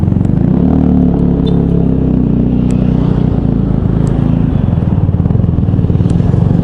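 A Vespa GTS 150 scooter rides through Jakarta, its engine a steady, loud low drone with a constant rumble and slight clatter running the whole time, no voices over it.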